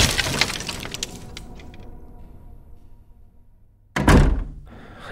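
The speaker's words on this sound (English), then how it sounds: "Door's gonna give any minute." In the video game Nikopol, police break down a door: a clattering crash with debris fades into a low rumble, followed by a second loud, heavy smashing impact close by.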